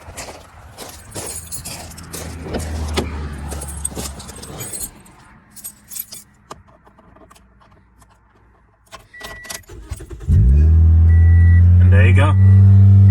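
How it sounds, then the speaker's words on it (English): Keys jangle and rattle for several seconds, then a Toyota/Scion 1NZ-FE engine cranks and catches after a serpentine belt replacement, settling into a loud steady idle. "So now we're gonna start the car."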